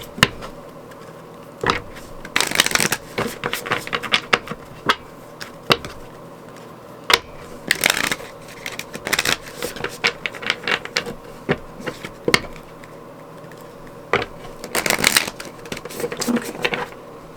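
Tarot cards shuffled by hand, close up: repeated bursts of papery riffling and slapping with short pauses between them over a faint steady hum, no talking.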